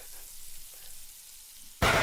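Quiet background hiss gives way to a sudden loud, crackling sizzle near the end as pancake batter hits a hot frying pan.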